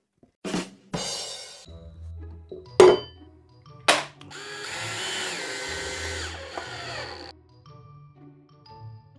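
A power drill bores holes during a home-built photo booth project, with a few short spurts and sharp knocks followed by a sustained whirring run of a few seconds, close and moderately loud.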